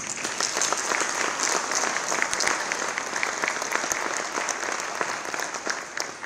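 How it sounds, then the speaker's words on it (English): Applause from the audience at an industry awards ceremony, a dense, steady round of clapping that holds at full strength for several seconds with a light crowd murmur mixed in. "ask for a big round of applause"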